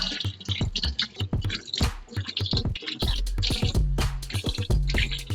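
A microwave part is scrubbed and rinsed with water indoors, with irregular scraping strokes, drips and splashes close to the mic, and running water filling the second half.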